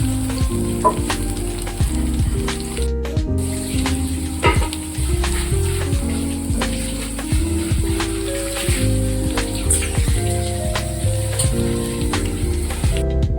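Steady, dense sizzling of sweetcorn vadai frying in a small amount of oil, with a continuous crackle and occasional sharper pops, close and fairly loud throughout.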